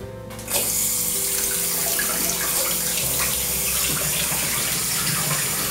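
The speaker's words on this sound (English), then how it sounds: "So now we're gonna do a water test, make sure the drain pipe is not leaking or the P-trap's not leaking." A bathroom vanity faucet turns on and water runs steadily into the sink and down the drain through a newly installed P-trap, a constant close splashing hiss after a brief quiet start.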